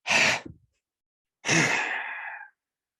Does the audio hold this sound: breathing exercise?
yes